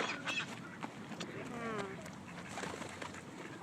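Birds call at a lakeside, with honks and coos like geese, ducks and pigeons. The calls are faint and distant, set against outdoor background noise, and people talk intermittently nearby.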